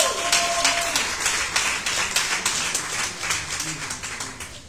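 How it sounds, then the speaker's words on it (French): An audience gives a sustained ovation for the mothers, dense clapping at close range that slowly tapers off. "Est-ce qu'on peut faire encore une ovation à nos mamans?"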